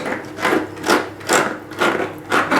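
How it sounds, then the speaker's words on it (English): A tool scrapes algae off a 3D printed algae scrubber in steady rhythmic strokes, about six close, loud rasping passes in quick succession with no talking. "And again, scrape this side."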